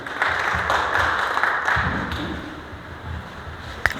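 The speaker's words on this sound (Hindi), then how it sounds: "विपिन कुमार वर्मा जी के लिए जोरदार तालियां एक बार" Steady applause from an audience at a workplace Safety Day program fills the space, a dense continuous patter of clapping with a few sharper claps standing out near the end.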